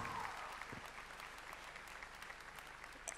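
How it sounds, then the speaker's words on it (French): Cosplay show audience applauding in a soft, distant, continuous spread of clapping that holds steady for a few seconds. "Applaudissez bien fort, Mando!"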